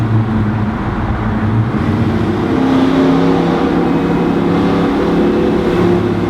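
A loud, steady engine rumble from a 1966 Beaumont with a 283 crank and 400 block drones close by, holding a deep, throaty tone without clear peaks.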